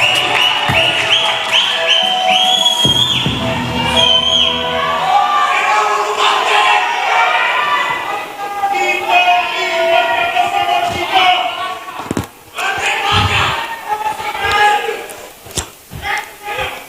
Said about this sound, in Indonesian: Kita beri tepuk tangan yang meriah untuk pasangan calon nomor urut 3.